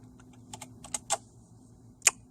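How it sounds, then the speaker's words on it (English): Scattered keystrokes tap on a computer keyboard, a handful of light clicks in an uneven rhythm ending with one sharper press, close and quiet in a still room. "let's just type it one more time"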